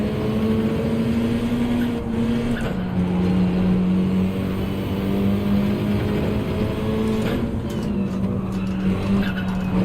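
Porsche race car in Gran Turismo 7, a steady droning engine note that holds and shifts pitch slightly, with tire squeal and skidding throughout, loud and continuous.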